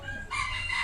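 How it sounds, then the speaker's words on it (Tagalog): A breeding rooster crows in one short, loud, close burst, its strained, harmonic call rising sharply after a brief moment of low background noise. "Yan ang mga malulupit kong breeding ng manok."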